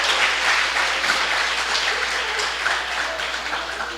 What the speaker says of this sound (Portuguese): Vamos dar uma linda salva de palmas para Ele, vamos?